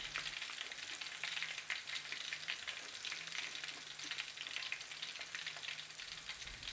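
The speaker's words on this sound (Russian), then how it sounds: "затем отделить слипшиеся куски мяса друг от друга и после этого обжаривать их еще 3 минуты" Pieces of batter-coated meat for Korean sweet-and-sour pork fry in oil, giving a steady, dense sizzle with faint crackles and a soft low hum beneath, continuous and moderately quiet with no talking.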